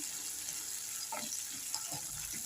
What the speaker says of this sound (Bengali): তো দেখো এখানে আমি জিরে ফোড়ন দিয়েছি আর এই যে গোটা গরম মশলা দিচ্ছি